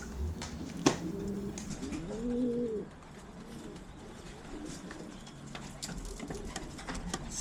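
Racing pigeons home at the loft after a 445 km race coo softly, one clear rolling coo standing out early among faint scattered calls and light rustling.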